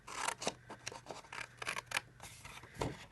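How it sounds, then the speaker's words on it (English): Scissors trim paper while a gift bag is made on a punch board, giving quiet, close snips and scratchy cuts in a short, uneven run. "now let me bring my scissors in, and I'm going to trim this and trim this"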